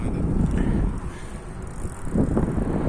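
Steady wind rumbles and buffets against the microphone, a low continuous roar with gusts rising and falling, with road noise underneath.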